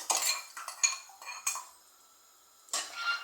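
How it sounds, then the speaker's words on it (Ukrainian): A spoon stirring broth with garlic and salt in a pot, clinking and scraping against the metal in short bursts, a pause of near silence, then another scrape; close and fairly quiet. "І гарно перемішую"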